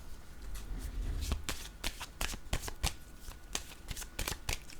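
Tarot cards being shuffled by hand up close, a series of crisp riffling flutters and soft slaps in quick irregular bursts, with no talk.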